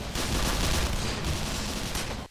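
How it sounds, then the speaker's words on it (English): Enemies in Black Mesa fire guns, a dense, continuous burst of rapid gunfire that stays loud and close for the whole brief moment. "they're shooting."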